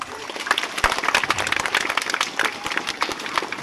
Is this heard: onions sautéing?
no